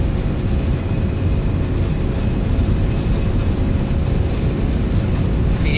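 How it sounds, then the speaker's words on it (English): A Boeing 757 rolls down the runway for takeoff in the X-Plane 12 flight simulator, giving a steady, loud, broadband engine roar that stays constant throughout with no talk. "This seems like a really long takeoff roll."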